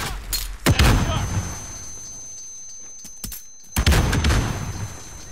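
Gunfire in a 2v2 match of Call of Duty: Modern Warfare, heard as two loud sharp shot clusters a few seconds apart with a low hum and a few faint cracks between them.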